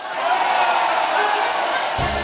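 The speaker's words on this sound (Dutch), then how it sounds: "Dames en heren, geef voor een groot applaus" An outdoor festival crowd breaks into broad applause and cheering, a dense wash of clapping and shouts at moderate distance, with a low musical beat entering near the end.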